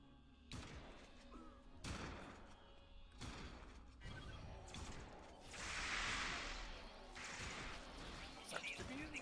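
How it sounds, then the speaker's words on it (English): A pistol fires in a video game in a string of loud, separate cracking shots with short gaps between them, mixed with other game noise and a voice talking. "this pistol is so much fun"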